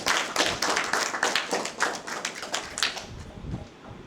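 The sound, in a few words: audience clapping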